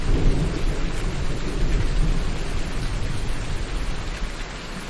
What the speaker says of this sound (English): the sound of thunder is always so soothing